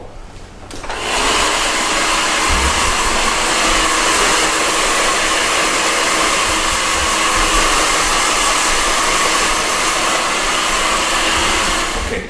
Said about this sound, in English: Always, I'm gonna dry the hair in a natural way. So loosely move it around